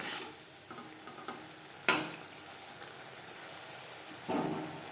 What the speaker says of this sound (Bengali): লো টু মিডিয়াম ফ্লেমে মশলা ভালো করে কষিয়ে দেবো